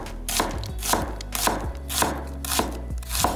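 Knife slicing an onion into thin half-rings on a cutting board, six crisp evenly spaced chops in a steady rhythm, close and clear with no talk.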